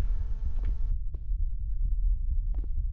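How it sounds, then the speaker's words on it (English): A faint, low heartbeat throbs steadily in a haunted hotel video game, a muffled pulse that continues on its own after a brief tonal drone cuts off. "And now there's a slight heartbeat."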